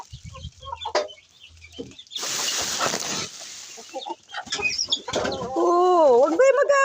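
Pet chickens cluck and squawk nearby at feeding time, in short bursts with scattered clucks, amid rustling and a voice talking.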